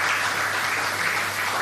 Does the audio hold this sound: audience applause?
yes